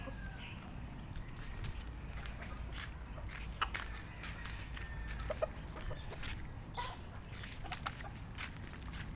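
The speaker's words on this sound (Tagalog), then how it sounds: "Kung meron akong malaking manok guys, ito naman ang aking pinakamaliit na manok." Chickens on a small backyard flock cluck and call intermittently at a moderate distance, with scattered footstep-like rustles and a steady background hum throughout.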